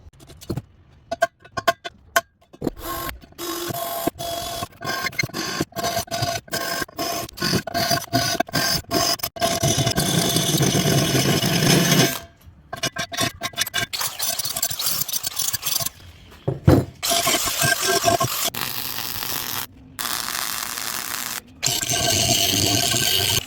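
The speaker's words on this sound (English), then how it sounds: "The next thing I got to do is just drill the holes in there to mount the bolts" A power drill bores holes in wood for mounting bolts on a homemade 8-inch wooden press. It runs in loud, sustained bursts of grinding and rasping, with a few short pauses and restarts.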